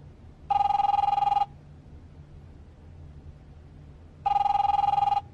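Two long electronic telephone rings with a buzzing, trilling tone from a phone in The Wolf Among Us, separated by a few seconds of quiet low hum, with no voices.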